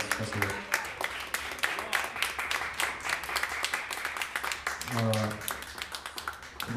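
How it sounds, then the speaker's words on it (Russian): A concert audience applauds a string band with dense, steady clapping throughout, while a voice briefly speaks over it. "Под ваши аплодисменты удаляются звезды второго отделения"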